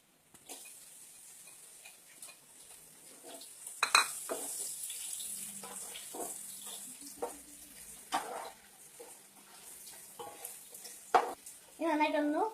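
Onions frying with garam masala in a pan for ghee rice, heard as a quiet sizzle broken by scraping, stirring clinks and taps of a utensil against the pan, with no speech.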